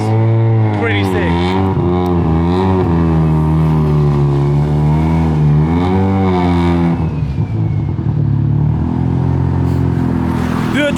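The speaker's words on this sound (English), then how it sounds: "So it's vibrant oval piping with a Racing Beat universal muffler, and it sounds pretty sick." A rotary-engine car fitted with Vibrant oval piping and a Racing Beat universal muffler revs loudly and up close, its raspy note climbing and falling in repeated sweeps before settling toward a rougher idle.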